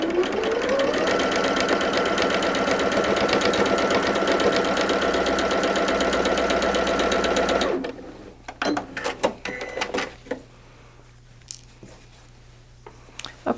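A sewing machine stitches quilt block seams for a Tulip Star barn star sampler, running in a fast, steady chatter for about eight seconds, then stopping, followed by softer handling clicks and rustling.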